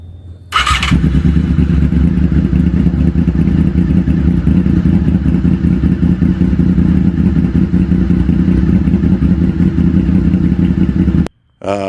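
A Honda Goldwing motorcycle engine cranks and fires up, then settles into a loud, steady, close idle with a rumbling pulse, running alone until it cuts off near the end.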